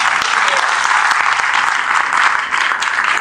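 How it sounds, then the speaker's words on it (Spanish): Steady, loud applause from a church congregation fills the space, dense clapping sustained without pause for a few seconds. "Vamos a brindarle un fuerte aplauso a ellos."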